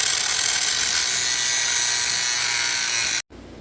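Dremel rotary tool cutting off a weld on a Yamaha YZ450F dirt bike, a steady, loud high-pitched buzzing whine running continuously before cutting out suddenly near the end.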